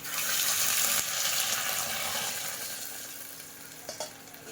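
Jute greens hit a hot pan in a Bengali kitchen, a loud hissing sizzle that bursts up at once and slowly eases off, with a few small clinks near the end.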